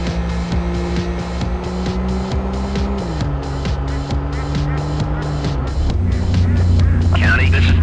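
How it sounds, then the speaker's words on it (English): A speeding BMW M5 chased by police in Need for Speed: High Stakes, with loud revving engines and shifting gears roaring close and steady, tires squealing near the end, and radio chatter over a pulsing background beat. "We have a report of a speeding BMW M5 at the cabin"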